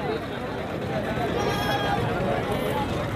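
Goats bleat amid a dense crowd at a livestock market in Dera Ghazi Khan, Pakistan, with steady babble of many voices throughout and occasional animal cries rising above the noise.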